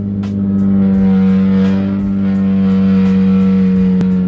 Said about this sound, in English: Loud ass exhaust.